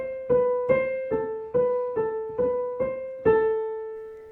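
Piano plays the right-hand melody of Kuntz's Canon, Opus 40, slowly and simply: eight separate struck notes at a steady, unhurried pace, each decaying before the next, close and clear with no voices.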